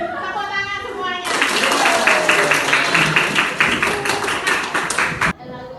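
A group claps their hands together for about four seconds in a school class. The clapping is loud, dense and steady. A voice speaks just before it and again briefly afterward.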